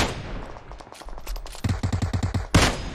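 Automatic gunfire from a PUBG Mobile match: a quick burst of rapid shots, then a louder, harsher blast at the end, with no talking over it.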